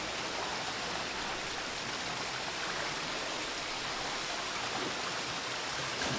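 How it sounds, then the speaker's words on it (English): Steady broadband rush of a waterfall in the video game Witcher 3, continuous and fairly loud with no break, alone without voices. "Always check behind the waterfall."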